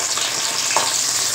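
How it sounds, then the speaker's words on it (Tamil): Eggplant pieces frying in hot oil for fish curry, a steady close crackling sizzle with one brief louder pop, no voices. "இப்போ இது எண்ணெயில் போட்டு பொரிச்சிக்கலாம்."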